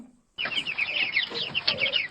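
A rapid string of high, chirpy peeps like a chick, continuous and close, sounding like a voice imitating chirping.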